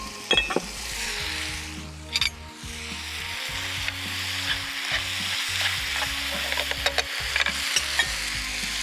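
Egg noodles sizzling and frying as they are stir-fried in a hot pan, a steady crackling hiss with intermittent clinks and scrapes of a utensil throughout.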